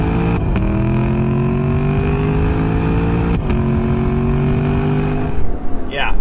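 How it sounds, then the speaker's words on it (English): A 2021 Lexus LC500 Convertible in Sport Plus mode runs with a loud, sustained engine tone and downshifts with brief breaks in the note, ending in a sharp rev blip. "in Sport Plus, it'll downshift and give you some really sensational music."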